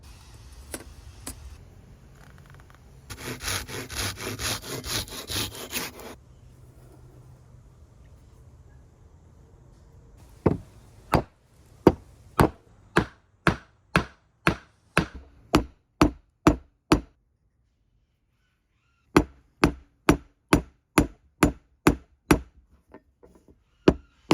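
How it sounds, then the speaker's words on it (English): A square wooden peg is hammered through a steel dowel plate, giving a long run of sharp, evenly spaced knocks, loud and close, after a brief stretch of other workshop noise and a pause partway through. "I'm gonna use this dowel plate. And essentially I'm gonna turn the square into a circular dowel"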